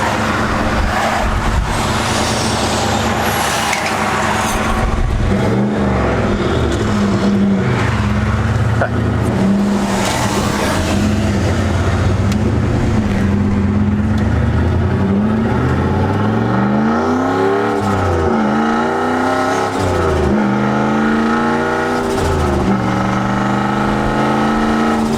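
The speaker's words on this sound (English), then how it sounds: "Turbo sounds good, exhaust sounds good." A 2004 Ford Mustang Mach 1 with a turbo and repaired exhaust cutout drives with windows down, its engine droning loud and close, revving and rising through gears in repeated sweeps over a steady rumble.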